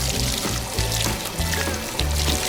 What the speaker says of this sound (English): Water begins to flow from the plastic pipes into water ducts.